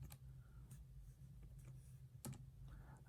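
Keys tapped on a computer keyboard while entering a logarithm calculation, a few sparse, quiet clicks spread across a faint room hum with no talking.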